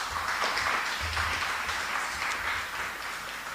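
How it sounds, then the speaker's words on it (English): A round of applause for a minister at a formal event, steady clapping from an audience heard fairly close and continuous, with no speech over it. "give him another round of applause"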